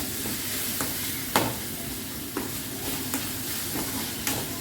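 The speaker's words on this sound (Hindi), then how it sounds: "तो नमक डालते हैं जिससे जो टमाटर है ना जल्दी सॉफ्ट हो जाएगा। अच्छे से मिक्स करें।" Tomatoes with salt are stirred in a hot pan. A steady sizzle runs under regular scraping strokes of a spoon, about one each second, heard up close with no one speaking.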